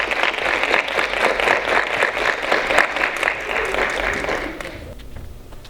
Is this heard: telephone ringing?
no